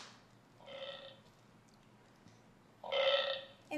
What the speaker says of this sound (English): it makes the burping sound.